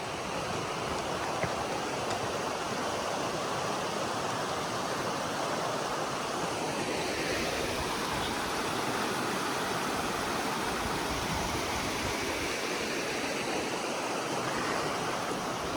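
Continuous rushing water of a flowing stream, broad and steady throughout, close and fairly loud with no voices.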